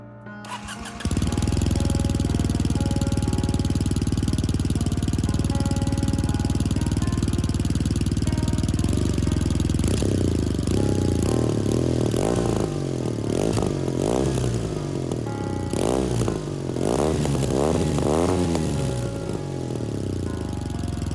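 Kawasaki W800 motorcycle parallel-twin engine and muffler, starting and settling into a steady loud idle, then rising and falling through several throttle blips and revs up close; no talk.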